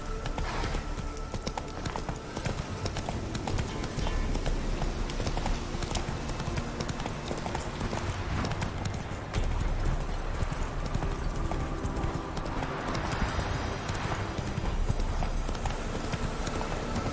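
Horse hooves clip-clop steadily at a gallop in The Witcher 3 fantasy role-playing game, a continuous loud drumming rhythm with an occasional whinny and a brief shouted voice, sustained throughout.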